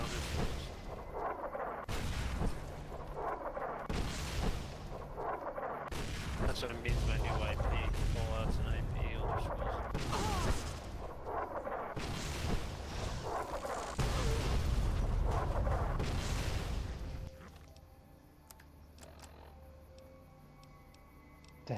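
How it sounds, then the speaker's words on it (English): Bombs and a truck blowing up in the video game Fallout New Vegas make repeated loud booming blasts and bursts of gunfire for most of the stretch, then fade to quieter game ambience near the end. "I got hit by some bombs and a huge ass explosion went off because they destroyed a truck, and Lily just screams like, "Oh, so loud!"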